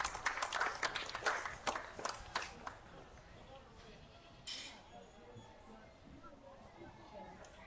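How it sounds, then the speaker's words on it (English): An audience claps for five exhibitors at a livestock show judging. The clapping comes as a burst of scattered claps that quickly thins out and fades, and voices and movement around the show ring murmur underneath. "give all 5 of those exhibitors a nice big round of applause"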